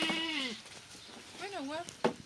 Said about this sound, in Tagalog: Kambing pala yan.